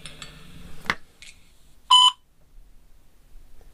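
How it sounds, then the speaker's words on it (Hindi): Repair of a USB panel fitted with a Bluetooth module: a single short, clear electronic beep stands out amid faint handling clicks and quiet background noise. "एक साउंड आया था छोटा सा बीप करके।"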